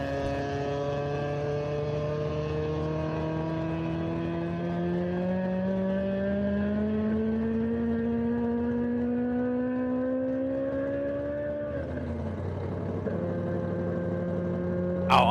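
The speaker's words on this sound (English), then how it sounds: "that sounds like one mean 4-cylinder" A 4-cylinder VW truck engine at full power on the Bonneville salt flats, a loud, steady droning howl whose pitch climbs slowly through a long gear, drops abruptly on a shift near the end, then holds again, with no talk.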